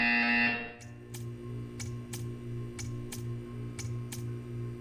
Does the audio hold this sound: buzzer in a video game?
yes